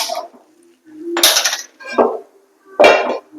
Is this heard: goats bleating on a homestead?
no